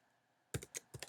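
A URL is typed on a computer keyboard in a short run of crisp, close key clicks following half a second of near silence, quiet overall and with no voices.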